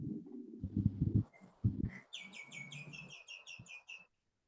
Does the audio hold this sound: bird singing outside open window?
yes